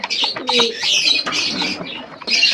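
Pet pigeons feeding on chickpeas at night, with soft repeated cooing and rustling close by, fairly loud and continuous, without talk.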